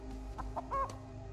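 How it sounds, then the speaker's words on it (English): A video game chicken clucks in a few short, quick bursts close by, over a low steady background hum. "Chicken's in there."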